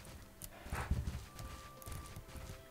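A horse's hooves clip-clop at a steady walk in the Bella Sara video game, close and even-paced, with a brief louder thud early on and a faint tone in the background.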